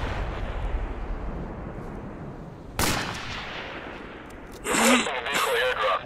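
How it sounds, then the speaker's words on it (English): Gunfire in the Project Reality tactical military game: a sharp broadband shot lands near mid-clip, and a louder burst of shots follows toward the end, over a steady background din with voice chat. "I shot the RPG guy."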